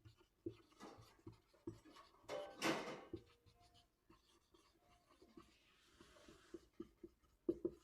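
Marker or chalk writing on a classroom board during a Hindi maths lesson on sets, with short scratchy strokes and taps in an irregular rhythm and one louder burst of scribbling near the middle.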